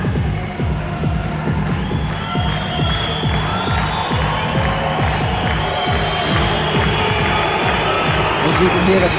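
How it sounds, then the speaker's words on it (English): A large arena crowd at a heavyweight kickboxing event roars continuously, a dense wash of cheering and clapping with rhythmic pulses, steady and loud throughout. "You can hear the crowd just going absolutely crazy here."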